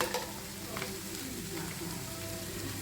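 Beans sizzling steadily in a frying pan, a continuous crackling fry heard close up with only faint background noise.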